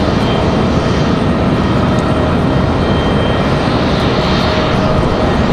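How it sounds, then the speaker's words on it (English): Frontier Airlines flight 3322, an airliner arriving from Miami on final approach at Raleigh-Durham International, roars loud and close in a steady broadband engine rush throughout, with no voices. "Frontier's up next on Final Frontier 3322 coming in from Miami"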